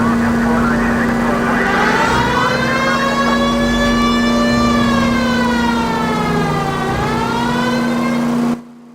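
A police car siren in L.A. Noire wails loudly with slow rising and falling sweeps over a steady engine hum, then cuts off abruptly at the end.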